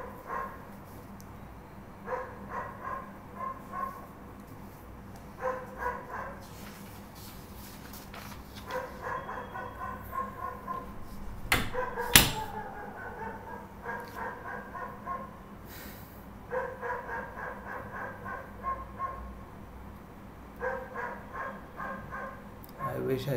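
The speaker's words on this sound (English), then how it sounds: "wish I could silence those dogs." Several dogs bark and yip in the distance in short, scattered bursts throughout, partly under someone speaking quietly indoors.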